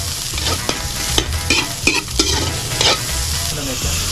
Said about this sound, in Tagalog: ginigisa ang buong hipon na tinadtad para mas maging malasa